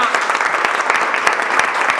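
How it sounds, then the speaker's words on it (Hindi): A crowd of trainees in a phone repair class claps together in a continuous burst, the applause staying full and even throughout. "एक बार ताली बजाओ अपने घर वालों के लिए"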